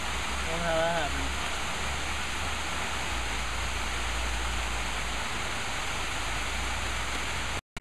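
She-Qua-Ga Falls sends up a steady, broad rushing roar of falling water that holds unbroken throughout, with a brief faint tonal sound near the start.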